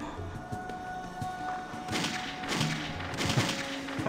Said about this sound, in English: I hear some gunshots.